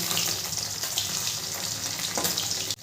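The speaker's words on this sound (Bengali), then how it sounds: "তেলটা আমার গরম হয়ে গেছে, এবারে দিয়ে দেবো পনিরের টুকরোগুলো।" Paneer pieces frying in hot oil for a navratan korma, a dense, steady sizzle that stays loud and unbroken throughout, with no voices.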